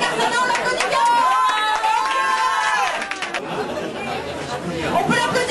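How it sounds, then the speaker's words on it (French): An audience at a Mister Cuba Compagnie 2012 contest final applauds a candidate, steady crowd clapping and chatter that eases midway and then picks up again, with voices over it. "On peut l'applaudir bien fort."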